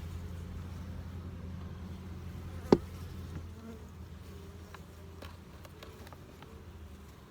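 Honey bees hum softly and continuously around an active beehive, a low steady drone with a sharp click partway through and faint scattered ticks later.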